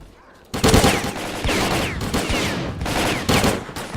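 Sustained MP5 submachine gun fire in the video game STALKER: Call of Pripyat erupts after a brief quiet start, loud and close, with rapid overlapping bursts and short gaps continuing to the end.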